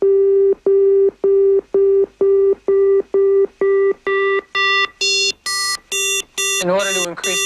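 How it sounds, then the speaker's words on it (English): An FM synthesizer plays a repeated pulsing tone, about a dozen evenly spaced beeps on one pitch. The beeps grow brighter and buzzier as the modulator level rises, and the last notes turn harsh and warbling. "So listen to what happens as you increase the level of a modulator."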